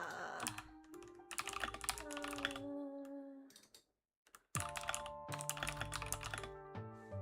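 Rapid computer keyboard typing during an On-Together gaming session, close and steady, with bursts of clicks over sustained tonal game music and a brief pause midway.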